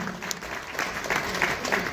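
An audience at a school retirement program applauds Chauhan sir with soft, steady clapping from many hands, fairly distant and even throughout.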